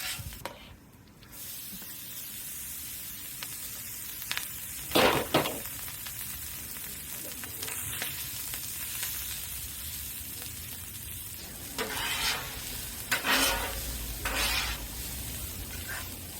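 Three cups of white rice fry in plenty of oil on a Vevor 36-inch propane griddle, a steady close sizzle and hiss with occasional louder scraping bursts from stirring.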